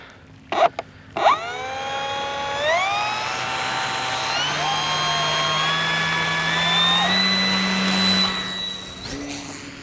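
The electric motor of an AVIOS 2.2 m Kobuz RC power glider blips twice, then spins up to a loud, rising high-pitched whine held at takeoff throttle before cutting off.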